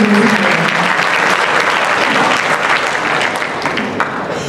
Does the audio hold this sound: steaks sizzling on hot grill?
no